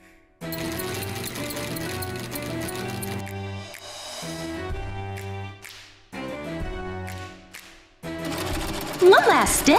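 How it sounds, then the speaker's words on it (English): A sewing machine stitches fabric for an outfit in bursts, its motor whirring with short pauses between runs, close and prominent, with a brief rustle near the end. "The sewing machine is in place!"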